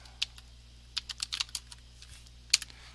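Keys tapped on a computer keyboard while entering a value, a quick irregular cluster of light clicks over a steady low electrical hum, close by and with no talk.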